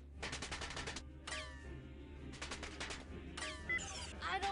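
Weapon bursts in the strategy game Earth 2150, several rapid rattling volleys in separate bursts with short gaps between them, loud and close with faint whistling tones trailing after.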